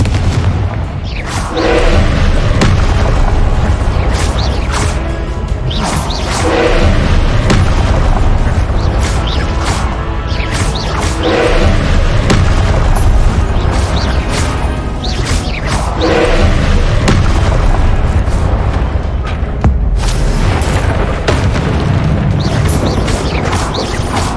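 Repeated Confringo fire-spell blasts in the video game Hogwarts Legacy, loud booming explosions landing every few seconds over a rumbling, crashing background.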